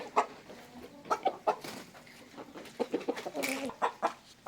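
Chickens cluck in short, irregular bursts close by, with a busy farmyard murmur of fowl underneath.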